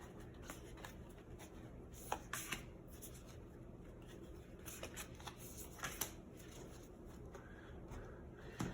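Animal oracle cards shuffled by hand close up, a quiet continuous papery riffle and rub with several sharper slaps and taps of the deck, no one speaking.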